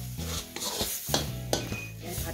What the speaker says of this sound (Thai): เดี๋ยวยายจะผัดเครื่องก่อนนะคะ